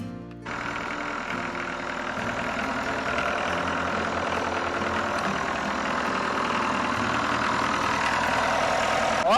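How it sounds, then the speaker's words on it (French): A Nanni 60 hp marine diesel engine on a sailboat idles steadily nearby, a constant rumbling drone with no voices over it. "Là le moteur il tourne bien, je lui ai mis un petit peu de gaz pour voir"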